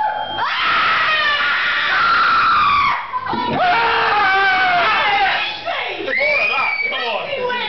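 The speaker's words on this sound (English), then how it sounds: "who can scream loudest?" Live concert audience at a metal show screaming loudly in sustained, overlapping shrieks and yells that swell, drop briefly around the middle, then surge again.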